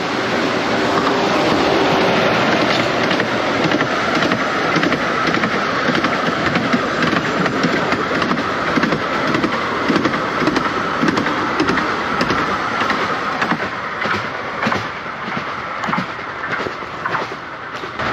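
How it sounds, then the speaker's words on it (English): A touristy little train near Coltishall, Norfolk rolls past at moderate distance, a continuous rumbling clatter with repeated rhythmic clicks that fades slightly toward the end. "Yeah, that's the train, you can get a ride in."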